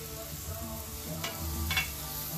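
Food and shrimp sizzle on a Camp Chef cast iron griddle while being moved around, a close, steady crackle with scraping stirs.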